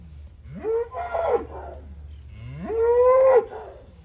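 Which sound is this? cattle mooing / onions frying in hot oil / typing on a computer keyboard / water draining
cattle mooing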